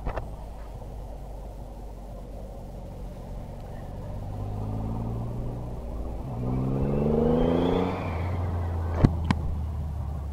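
A Triumph Rocket 3 R triple-cylinder motorcycle accelerates, its engine note rising from a low rumble into a swelling, climbing roar before settling back, with wind noise throughout.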